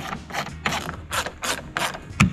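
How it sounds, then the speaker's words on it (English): Torx driver snugging screws down on a truck bed extender, a series of about seven quick ratcheting bursts at an even rhythm, close and fairly quiet with no talk. "get a Torx and start to snug them down"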